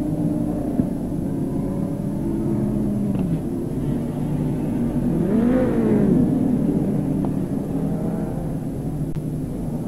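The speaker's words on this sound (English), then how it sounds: "This is the GP Midget Final." GP midget race cars race at Newcastle in the late 1980s: a continuous engine roar and rumble, with one car's pitch audibly rising and falling as it passes midway through.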